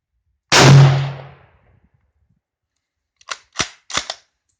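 A Yugoslavian M48 Mauser rifle fires once at an outdoor range, a loud sharp crack with a fading tail, followed a few seconds later by three quick metallic clicks of the bolt being worked.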